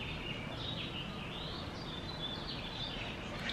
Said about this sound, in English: I like literally love the sound of birds chirping.